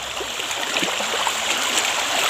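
A clean river stream rushes steadily and loudly close by, a broad continuous wash of flowing water with small splashes and no voices.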